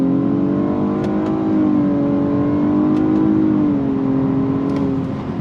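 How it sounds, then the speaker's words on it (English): A 2023 Nissan Maxima with a CVT pulls away from a dead stop in first gear, selected with the paddles: a loud, near engine note that swells and climbs gently, with no voices. "I'm gonna come to a dead stop, use the paddles, we're in first gear. On throttle, here we go."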